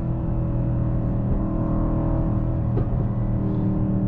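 The V8 of a 2024 Mercedes-AMG GLE 63 S SUV roars steadily with deep rumbling tones under hard acceleration, a few sharp exhaust pops and crackles cutting through near the end.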